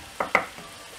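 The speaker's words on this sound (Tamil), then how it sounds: "அந்த மசாலாலாம் நல்லா சிக்கனில் கோட் ஆகிற மாதிரி நல்லா மிக்ஸ் பண்ணி விடணும்" Chicken is mixed with masala in a pan, making two quick, close scraping stirs and a fainter third one over a low background sizzle.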